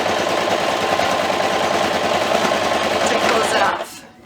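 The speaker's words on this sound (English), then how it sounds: "I'm just gonna do a little top stitch along the edge" A home sewing machine runs a fast, even top stitch along a fabric edge, a steady loud mechanical chatter that stops abruptly near the end.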